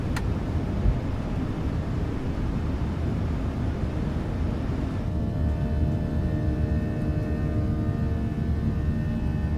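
A Boeing 737 in Microsoft Flight Simulator with an add-on sound pack, climbing after takeoff from Bergen, gives a loud, steady jet engine roar and cabin rumble with a whining tonal hum, continuous and close.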